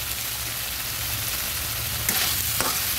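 Tomatoes cooking in a pan give off a loud, constant sizzling hiss, with a brief louder scrape of stirring near the end.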